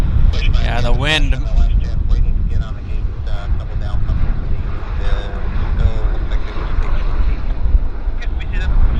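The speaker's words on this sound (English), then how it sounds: "Yeah, the wind." Strong wind buffets the microphone at Vancouver International Airport, a steady loud roar throughout, with an aircraft passing in the background.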